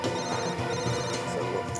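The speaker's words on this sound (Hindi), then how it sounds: "फोन उठाओ।" A mobile phone ringtone plays steadily and fairly loudly in a tense indoor scene, a continuous tonal ring with no talking over it.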